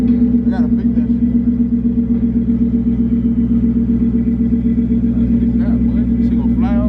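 A 2018 Dodge Charger R/T with Super 10 mufflers and a resonator delete running close by: a loud, steady, deep burbling rumble, with voices talking over it.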